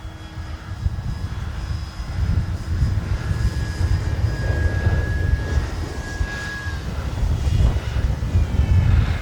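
A small RC model airplane engine, a Flex Innovations RV-8, buzzes steadily overhead, its pitch rising and falling as it passes, with wind rumble underneath throughout.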